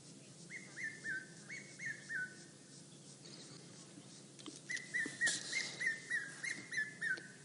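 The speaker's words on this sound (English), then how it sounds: "This cuckoo is here." A cuckoo repeats short, whistled two-note calls in a series, pausing, then calling again more loudly, with a quiet outdoor background on an African safari.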